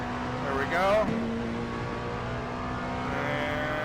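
LMP2 prototype race car engine in the iRacing game, driven around Sebring, hums steadily and rises in a short accelerating swell early on before settling into a constant drone.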